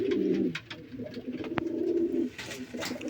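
Pigeons at a pigeon farm coo in low, throaty, rolling calls, repeated several times close by, with brief pauses and light background bustle.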